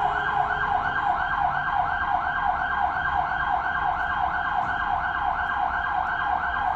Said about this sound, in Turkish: Kaçıncı ambulans ya?